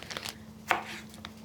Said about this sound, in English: I'm actually going to cut up a little bit of this beautiful tomato and cook it down in here a little bit